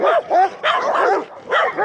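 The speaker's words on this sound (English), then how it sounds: "A lot of dogs straight through here." Several off-leash dogs bark on a street in Cuenca, Ecuador, loud and close in three quick bursts of overlapping barks and yips with short gaps between them.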